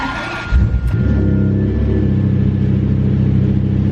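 A 5.7-liter naturally aspirated V12 car engine starts with a sharp burst, then settles into a loud, deep, rumbling idle with steady pulsing, heard alone close up.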